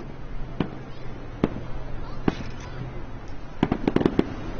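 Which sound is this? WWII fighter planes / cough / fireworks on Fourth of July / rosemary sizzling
fireworks on Fourth of July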